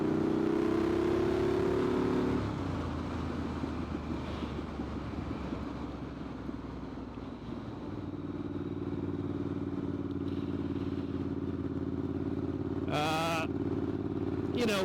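A Triumph Street Scrambler 900cc motorcycle engine runs during a ride, a steady close drone with a brief higher revving passage near the start, broken by a short sharp burst of another sound near the end.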